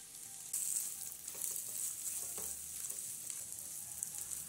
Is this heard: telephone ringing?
no